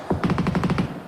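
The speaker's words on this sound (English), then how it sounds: "we caught the end of that rotation as Furia were taking that volley of fire" A rapid automatic gunfire volley in a PUBG Mobile tournament match: about eight quick shots in an even burst lasting under a second, fairly close and clear.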